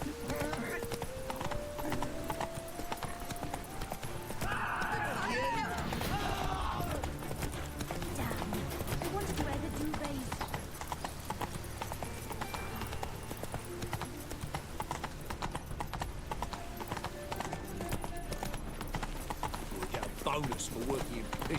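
Roach, Geralt's horse in The Witcher 3, gallops with steady rapid clip-clop hoofbeats over game ambience and music, occasional whinnies, and voices talking throughout.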